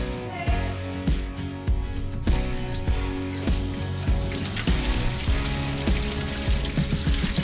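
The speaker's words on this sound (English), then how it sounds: "you can hear all the water flowing through this down below our house and filling up" Water rushes steadily through the pipes beneath a house as its water system fills, a continuous dense hiss and gurgle with a repeating rhythmic knocking running throughout, loud and close with no voices.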